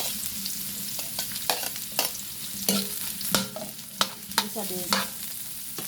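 Onions fry in a pan for a mussel soup, making a continuous sizzle punctuated by clacking stirring strokes; a voice speaks briefly.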